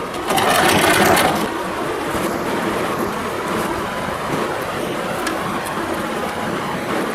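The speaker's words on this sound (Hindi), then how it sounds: "मशीन के अंदर लगाएंगे, थोड़ा पीछे से करके फिर सिलाई स्टार्ट करेंगे" A sewing machine steadily whirs while stitching fabric for a Radha Krishna deity outfit, one continuous close run that is loudest at the start and then settles into an even hum.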